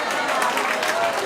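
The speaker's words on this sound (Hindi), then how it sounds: "तालियां बजाओ इस बच्ची के लिए।" Brief burst of audience clapping for a girl in a mathematics class setting, a dense, fairly loud patter lasting just over a second.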